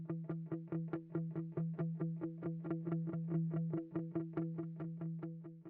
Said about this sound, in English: here we just have like the guitar just doing like a bass that is going to be looping